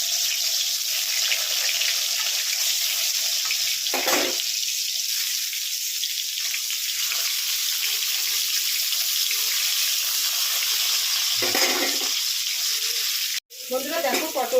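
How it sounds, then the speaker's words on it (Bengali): Pointed gourd (potol) fries in hot white oil in a wok with a steady, bright sizzle, broken by a few brief stirring clatters and a sharp crackle near the end. "পটলগুলোকে আমি এইভাবে একটু ভেজে নিচ্ছি"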